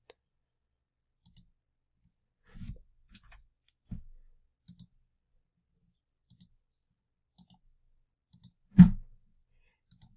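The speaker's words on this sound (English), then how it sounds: "Click it one time." A computer mouse clicks a handful of times while someone edits marching band drill in Pyware software. The clicks are soft, sparse and close in a quiet room, with one sharper click near the end.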